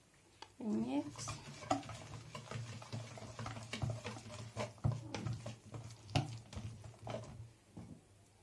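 A spoon stirs a wet zucchini flatbread dough in a bowl, giving repeated soft scraping and clinking strokes at close range, with a brief voice near the start.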